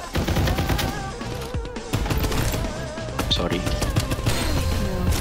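Rapid bursts of gunfire in the shooter game Farlight 84, loud and close with overlapping volleys, while a player speaks briefly over the shots.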